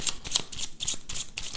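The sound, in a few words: shuffling and drawing tarot cards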